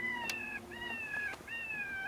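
A wounded, limping bobcat cries out at night in three drawn, wavering yowls, each about half a second long, fairly close and clear over a quiet background.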